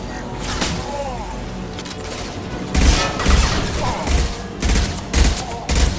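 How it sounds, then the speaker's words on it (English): Heavy gunfire from the high-impact weapon in Mass Effect 2, several loud thudding bursts in the second half over a busy game soundscape, with talk in the background. "Heads up! Firing a high-impact shot!"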